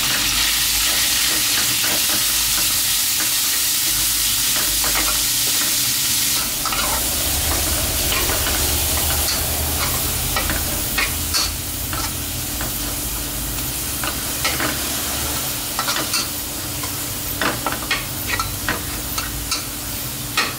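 Minced pork, added after fried garlic, is stir-fried in a hot pan for rolled rice noodles. It gives a loud, steady sizzle with a crackling hiss and repeated scraping clicks of the spatula throughout, and no speech.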